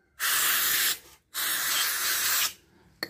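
Aerosol cleaner sprayed onto the lower part of a Toyota Innova 1TR automatic's throttle body: two long, close, steady hissing bursts, the second longer, with a short gap between and a brief final puff.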